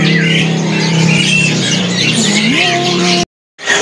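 A perenjak (prinia) songbird sings at a busy bird market, with sliding chirps and whistles over loud, constant crowd and stall noise.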